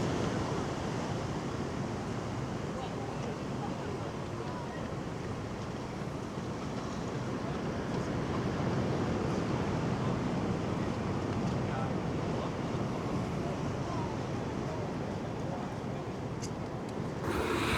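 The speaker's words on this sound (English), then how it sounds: "watching and listening to the waves is such a joy sitting at a beach like this" Steady, continuous rush of surf washing in at Hermosa Beach, California, with wind buffeting the microphone throughout.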